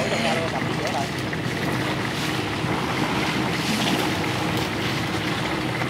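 A boat on muddy rural waterways in Vietnam, apparently a motorized craft, drones steadily and close throughout, mixed with wind buffeting the microphone while people talk over it.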